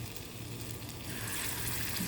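Small balls of bread and banana sizzle steadily in ghee over a low flame, a dense continuous frying hiss that grows fuller and louder partway through as more pieces go in.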